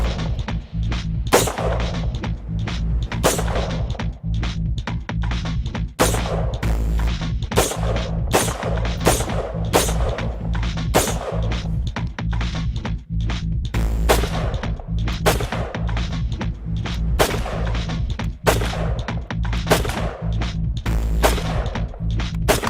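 Sharp gunshots fire repeatedly in quick, uneven bursts over a constant low rumble, loud and close.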